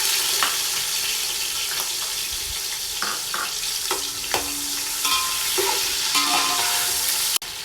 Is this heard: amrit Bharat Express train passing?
no